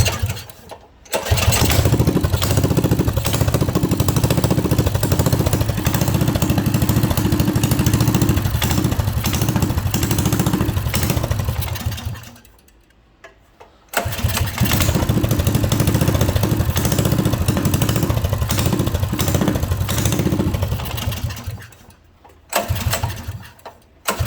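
A Coleman CT200U mini bike's small engine starts and runs loud and close with a steady buzzing roar, cuts out briefly, then fires up and runs again before stopping near the end.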